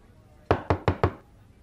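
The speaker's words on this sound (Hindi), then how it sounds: "आदित्य आदित्य आदित्य दरवाजा खोल" Four quick, sharp knocks on a door in a Telugu love story movie, evenly spaced and loud against a quiet background.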